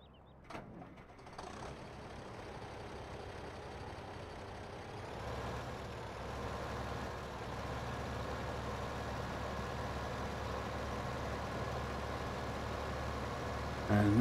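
Tractor engine in Farming Simulator 15 pulling a full 32,000-liter silage trailer, a steady low droning rumble that builds slightly and holds strained under load, continuous and fairly close, with no talk.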